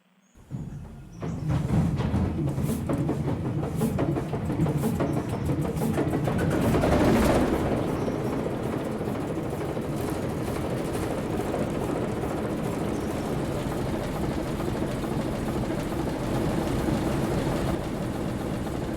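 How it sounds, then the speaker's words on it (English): A GE 44 Tonner diesel locomotive in the Railroader video game starts up: after a second of quiet the engine catches and settles into a loud, steady rumbling idle that swells briefly midway. "let's start her up"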